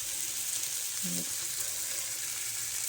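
Spices frying in hot oil with tomato in an iron kadai while making potato amti, a soft, steady sizzle close by, with a brief stir or clink near the middle and no talking.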